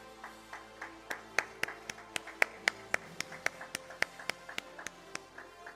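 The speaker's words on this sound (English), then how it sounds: "Huge round of applause, please." Audience clapping at the HR Success Talk Global Excellence Awards ceremony, a steady run of distinct sharp hand claps that are fairly sparse and moderately loud, with no voices over them.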